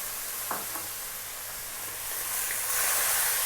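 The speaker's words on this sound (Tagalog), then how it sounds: "gigisahin ko lang yung ating kamatis siguro mga less than 2 minutes" Tomatoes sauté in a hot pan for corned beef spaghetti, giving a steady, close sizzling hiss with a couple of faint clinks of a utensil.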